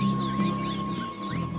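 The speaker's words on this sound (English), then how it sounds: "colorful birds feed on them, Cape weavers and white-fronted sunbirds" Cape weavers and white-fronted sunbirds calling among winter aloes, with short, high chirps and twittering notes scattered over a steady background hum.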